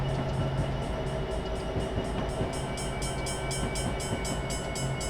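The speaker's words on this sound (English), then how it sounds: "Just going to sit right here just to see when the rear of our train passes our switching point." A long train rolls past in Train Simulator 2019 on Norfolk Southern's N-Line behind a GP60, a steady near rumble with regular clicking wheel beats and a metallic squeal running through it, with no voices.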